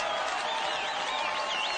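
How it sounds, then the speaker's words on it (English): Studio audience applause, a steady dense wash of clapping throughout, moderately loud with whoops and cheers rising over it. "I'm gonna let these applause ring out"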